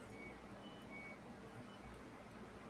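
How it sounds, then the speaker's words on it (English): Faint electronic beeps from a clothes dryer sound in short tones against a steady low hum in a quiet room. "the dryer's making a beep boop noise"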